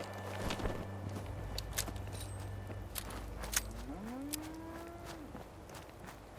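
A Brahmin cow in the game Fallout 76 lets out one faint drawn-out moo over footsteps crunching across the ground and a low, steady background hum.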